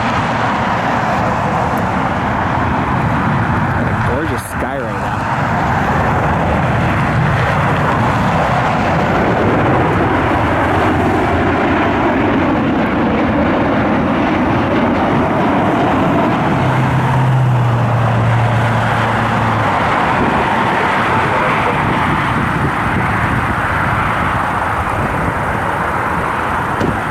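An American Airlines airliner passes overhead during plane spotting in Cleveland, a broad, steady roar of jet engines that holds for the whole stretch, fairly loud with a faint low whine.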